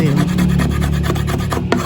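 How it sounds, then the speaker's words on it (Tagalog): Sandpaper rubbed by hand over a stained wooden table outdoors, producing close, loud rasping strokes in a quick, steady back-and-forth rhythm. "Pinano pa ni nanay ng liha ito."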